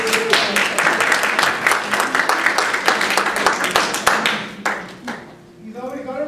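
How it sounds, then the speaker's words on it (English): Applause at a district leadership training event, brisk clapping from a room of people that runs strongly for several seconds, then thins and fades out near the end as a few faint tones and voices emerge. "Let's give more round of applause."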